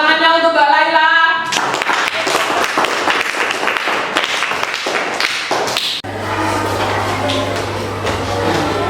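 A classroom group of children claps for a classmate during a batik lesson, bursts of clapping and taps after a sung or spoken opening, then a busier room with a steady hum.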